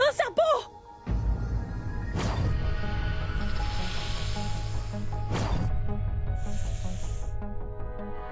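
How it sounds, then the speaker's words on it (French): Two bursts of broadband hiss from a real snake, each about a second long, rise over a steady musical background, with a brief startled voice at the start. "Un serpent!"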